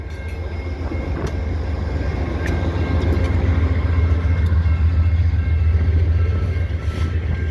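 Via Rail LRC passenger train passing slowly during a snowy April blizzard at St Ambroise Street, a loud, steady low rumble with rolling wheel noise and faint clanks.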